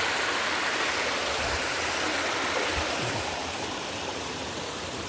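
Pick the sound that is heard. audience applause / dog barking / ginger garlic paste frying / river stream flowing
river stream flowing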